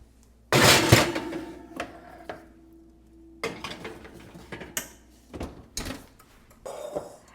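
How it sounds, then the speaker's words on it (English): Metal muffin pans of pineapple muffins slide into an oven with sharp clanks and scrapes, a door thuds, then scattered knocks and rattles follow, close and moderately loud with no talking. "now we're going to pop them in the oven"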